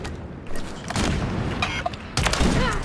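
Kar98k bolt-action rifle shots boom in a first-person shooter video game, several loud, close blasts in quick succession amid dense battle noise.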